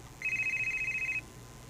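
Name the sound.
cellphone ringing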